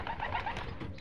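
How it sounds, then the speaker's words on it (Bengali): A brief, soft, low cooing comes from a pair of Kuwaiti racing pigeons, heard close against faint background noise. "এই যে দুটো কবুতর দেখেন, কুয়েতের রেসার কবুতর।"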